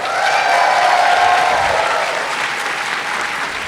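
A convention panel audience bursts into loud, dense applause with some crowd noise, sustained at a steady level and easing slightly toward the end.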